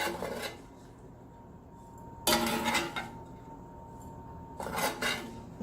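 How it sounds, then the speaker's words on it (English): Sausage mixture for keto biscuits and gravy scooped out of a pan into a bowl, giving three separate bursts of scraping and rasping utensil-on-cookware noise with clinks, quieter between strokes. "I'm just going to scoop that into a bowl"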